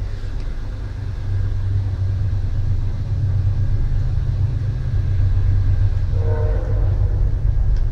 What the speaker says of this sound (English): Great trains.